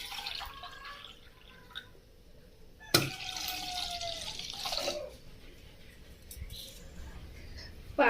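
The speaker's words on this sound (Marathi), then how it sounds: "याच्यामध्ये आपण पाणी घालणार आहे" Water is poured into a bowl of curd before whisking, a soft, quiet trickle and splash lasting a couple of seconds amid faint drips and low room noise.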